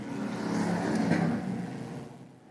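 USAC/CRA sprint cars racing at Kern Raceway, a loud sustained engine roar from the pack swelling and fading as cars pass down the back straightaway, heard without talk.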